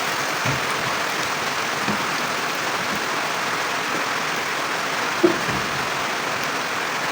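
Steady rain falling outdoors, a dense even hiss with no break and only a faint knock or two beneath it, heard alone.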